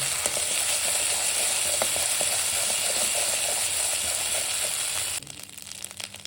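Ginger and green chili paste sizzles steadily in hot oil for a vegetarian dish, a dense, loud frying hiss with faint stirring scrapes that drops abruptly to a quieter sizzle near the end, with no talking.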